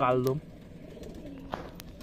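Domestic Desi Giribaz pigeons coo in a loft: a short, soft, throaty burst up front, then faint clicks and rustles over quiet background.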